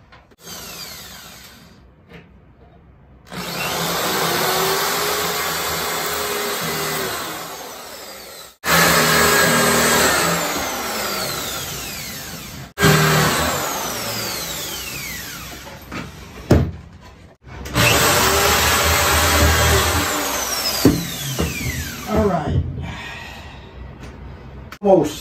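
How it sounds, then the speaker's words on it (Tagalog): Power drill boring a small hole for a closet hanger pipe, running in several long sustained whirring bursts with brief stops between, loud and close. "babarena ko"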